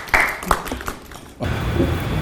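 Applause breaks out at a press conference, a burst of steady clapping from a group that follows a few sharp, isolated claps and some voices.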